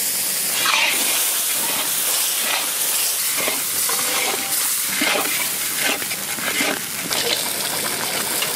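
Marinated yogurt hits a hot pan of goat mutton for a Bengali do-pyaza, setting off a loud, steady sizzle and hiss with stirring scrapes throughout.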